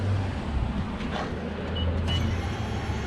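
Steady, loud low-frequency drone and broadband road rumble inside a 450 whp big-turbo Subaru WRX race car on the move, continuous cabin noise with no speech.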